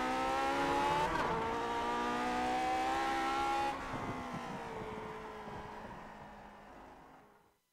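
A Lotus 49 race car in the iRacing sim at Canadian Tire Motorsports Park screams at high revs, shifts once with a sharp drop in pitch, then winds down and fades to silence.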